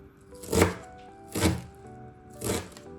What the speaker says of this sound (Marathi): आता मी ही पाण्यातून काढून घेतलेली आहे थोडी थोडी चिरून घेऊयात